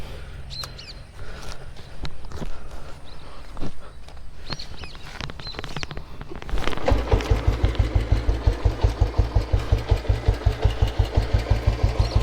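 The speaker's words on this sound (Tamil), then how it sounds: "அப்படியே வண்டி ஸ்டார்ட் பண்ணி காட்டுறேன்." A 1978 petrol Royal Enfield Bullet motorcycle starts after quiet outdoor ambience with birds chirping, then settles into a loud, close, steady single-cylinder idle with an even thumping beat.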